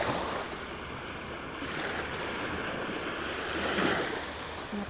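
Sea waves wash onto the shore at Santander Beach Resort in Cebu as a continuous broad hiss of surf, mixed with wind buffeting the microphone, with a slight swell toward the end.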